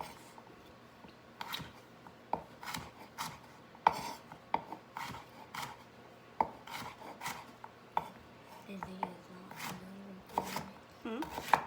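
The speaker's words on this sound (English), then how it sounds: "So we're just going to chop down our sweet potato." A knife chops a sweet potato into small pieces on a board, a steady series of close, sharp taps with brief irregular pauses, fairly quiet, with faint voices in the background.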